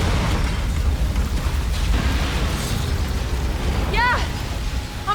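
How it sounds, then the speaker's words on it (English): A truck flipping and exploding in Resident Evil 2 Remake, a sustained, loud roaring rumble of burning wreckage with a rising whistling screech near the end, close and continuous. "truck that rammed Leon and Claire's police car then flips and explodes"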